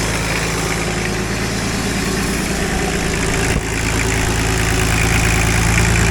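Diesel engine of an International truck with a substantial fuel leak, idling steadily up close with a loud, continuous low rumble and throb that barely changes over several seconds.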